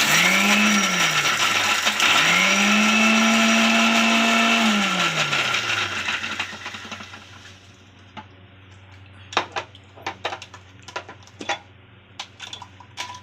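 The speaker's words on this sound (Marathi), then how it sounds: "वाटून घेऊया आपण" A mixer grinder grinds soaked leftover rice with cumin, its loud whining motor rising and falling through two runs before winding down, followed by a series of sharp taps and clinks.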